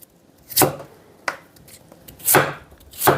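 Squid being cut with a knife on a cutting board while preparing spicy squid salad, four sharp, close chops at irregular intervals with quiet pauses between, loud and without talk.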